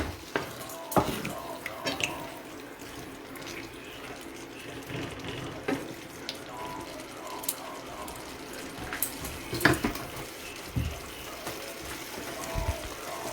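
Crispy chow mein with vegetables being stirred in a hot pan, soft sizzling under scraping and clinking of a utensil against the pan, with intermittent knocks and sharper clatters near the close.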